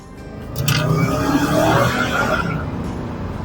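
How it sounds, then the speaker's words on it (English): A supercharged Range Rover Sport's exhaust swells into a loud rev, rising sharply and holding before easing off, heard close up on its own. "So I don't know if you guys heard the exhaust. Range Rover Sport supercharged."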